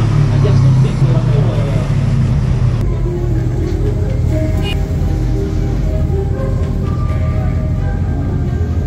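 Racing cars at the 80th Grand Prix de Pau street circuit, a loud steady roar of engines passing and revving close by, continuous throughout with a voice talking over it.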